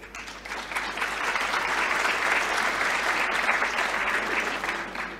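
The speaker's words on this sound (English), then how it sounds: "So a big round of applause to all our new maintainers." A conference audience at an Istio community gathering applauds new maintainers, a dense, steady burst of clapping that swells in and tapers over about five seconds with a faint hum underneath.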